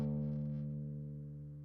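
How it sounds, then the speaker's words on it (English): A guitar's sixth string, tuned down to D, rings as a single low sustained note, fairly faint and slowly decaying, heard alone. "So the sixth string is tuned down to a D,"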